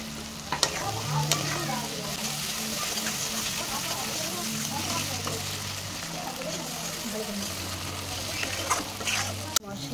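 A spice paste of ginger-garlic paste with meat masala, cumin and coriander powders fries in a pan, sizzling steadily with repeated stirring scrapes and a sharp clank near the end, a voice faintly present underneath.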